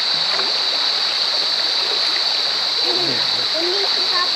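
River water rushes and splashes in a loud, constant, close-up wash with a persistent high hiss, while people talk faintly in the background.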